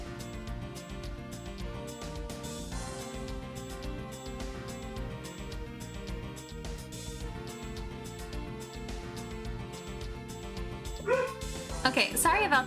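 Several dogs bark and yip in the background of a home setting, mixed with steady music throughout, with a sharper burst of barking near the end.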